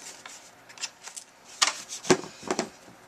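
Scissors trimming the edges of a handmade card after adhesive has been applied: a few quiet, irregular snips and paper rustles at close range, with no talking.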